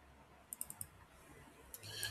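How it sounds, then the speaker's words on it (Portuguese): Computer mouse clicks while opening a certificate file: a faint, quick run of four clicks near the middle, then a couple more light clicks toward the end over quiet room noise. "Clica duas vezes no certificado."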